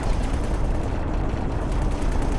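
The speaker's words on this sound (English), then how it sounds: "I like to see those big turrets on the side go to town." Heavy turrets on a capital ship fire continuously in the X4 space game, a dense, rumbling barrage of overlapping gunfire and blasts, loud and unbroken throughout with no talking.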